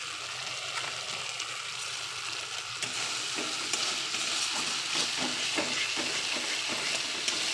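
Masala spices frying in a pan for a katla fish curry with potato and pointed gourd: a steady, close sizzle with scraping stir strokes running throughout, no talking.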